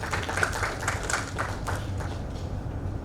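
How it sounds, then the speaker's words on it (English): A room of session attendees applauds their chair and co-chair, with steady, moderately loud clapping that carries through the whole stretch and then gradually thins toward the end. "Could we have another round of applause for our chair and co-chair?"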